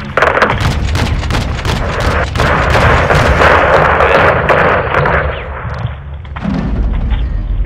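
Gunship fire leveling a greenhouse in Modern Warfare II, continuous heavy booming impacts and rolling explosions, loud and dense, with a brief dip before the barrage resumes, no talk.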